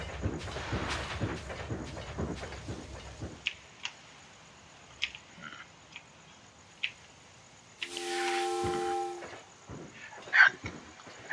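Trains running on track in the Super Loco World video game: soft periodic clicks and thumps over a faint hum, then a brief bright horn-like chime, with no voices.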